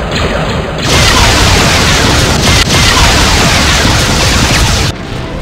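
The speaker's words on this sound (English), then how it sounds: "Simulated enemy ship has been destroyed." A starship explosion in Star Trek Bridge Commander, with the U.S.S. Discovery fighting an Imperial Venator, heard as a loud, dense roaring blast that holds for about four seconds before cutting off abruptly.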